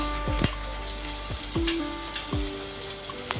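Tomatoes and spices fry in a pan while a utensil stirs, a continuous sizzle with a steady hum and several knocks and scrapes about once a second, close, with no talk.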